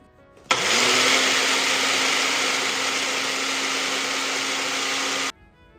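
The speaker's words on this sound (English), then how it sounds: "I just use a blender" A blender whirs steadily through a sauce for a high-protein meal prep recipe, switching on abruptly, holding a loud, constant grinding roar with a faint motor hum for about five seconds, then cutting off.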